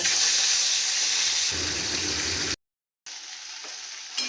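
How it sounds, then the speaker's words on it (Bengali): Pieces of katla fish frying in hot oil, a dense, loud sizzle up close that drops off sharply, goes silent for a moment, then returns as a quieter hiss with a few small pops. "এবারে এই তেলে আমি মাছগুলোকে ভেজে নেব।"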